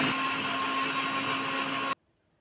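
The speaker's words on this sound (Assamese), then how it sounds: "ধুনীয়াকৈ গুড়ি কৰি ল'ম" Electric grinder whirring steadily as it grinds spices with salt into powder for coriander and spring onion fritters, a loud constant motor hum that cuts off abruptly near the end.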